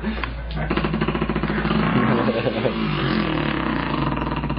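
A human voice imitating a dirt bike engine, a loud, close, buzzing rasp that revs up and sustains with a rattling, pulsing texture for several seconds.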